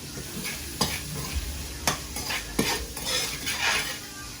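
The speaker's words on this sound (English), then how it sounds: "Mix that up." A spoon stirs ingredients in a sizzling pan, with a handful of sharp clinks against the metal over a steady frying hiss, close and alone without any voices.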